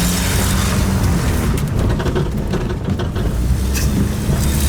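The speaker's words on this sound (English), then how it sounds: "This car sounds like a diesel." A Volvo 240 engine running with a rough, diesel-like clatter, loud and close with a steady low rumble and some wind noise over the microphone, no speech.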